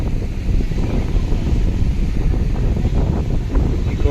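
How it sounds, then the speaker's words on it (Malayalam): Cool wind sweeps across Kozhikode beach, buffeting the microphone with a loud, steady, low rumbling roar that fills the whole stretch with no speech. "അത്യാവശ്യം നല്ല കാറ്റുണ്ട്, തണുത്ത കാറ്റാണ്."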